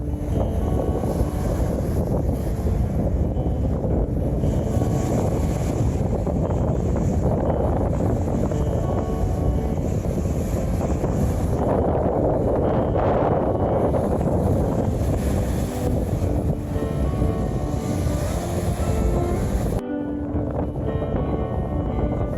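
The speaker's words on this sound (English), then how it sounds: "But it looks to be rather windy." Strong wind blows steadily on the coast of Scrub Island in the British Virgin Islands, roaring and buffeting a nearby microphone without pause, with faint sea noise underneath.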